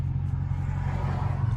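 A steady low rumble of cars passing nearby, constant engine and road noise with no talking, heard from inside a straight-piped Dodge Challenger R/T.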